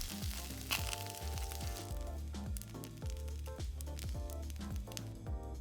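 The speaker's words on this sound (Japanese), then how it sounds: "レンコンに火が通ったらひっくり返し、火を強めて焼き色をつけます。" Slices of lotus root frying in a lightly oiled pan over high heat, a soft continuous sizzle heard quietly beneath gentle background music.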